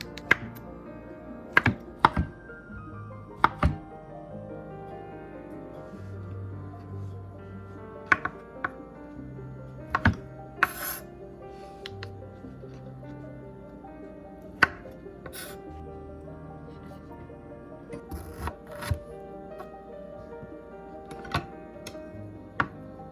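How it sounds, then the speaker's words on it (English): A knife chops tempeh into cubes on a board, sharp close taps arriving in irregular bursts and single strikes over a quiet background. "The tempeh is cut into cubes."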